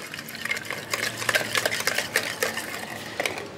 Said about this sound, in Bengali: একটু ভালো মতো মিলাই নি চিনিটা যাতে একটু গলে।